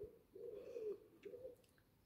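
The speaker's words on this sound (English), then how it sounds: "Can you hear the birds in my garden?" Soft, low cooing from a dove or pigeon, repeated a few times, with faint chirps in the background of a quiet garden.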